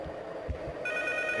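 A telephone rings in the horror game P.T. (Silent Hills), a brief electronic ring that cuts in sharply over dull, low ambient rumble and thuds.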